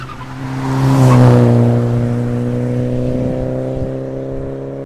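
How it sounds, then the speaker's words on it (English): A 1.8T car with a K04-064 turbo and loud exhaust drones up close, its deep engine note rising as revs build, then holding a steady booming tone under load. "I would say the exhaust is far too loud for what it is for a day-to-day driver"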